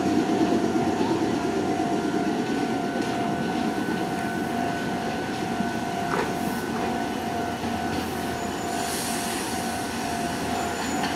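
A Meitetsu Nagoya Main Line train pulls into Chiryu station on a weekday morning, a sustained rumble of wheels on rail with squealing tones, and a high whine rising near the end.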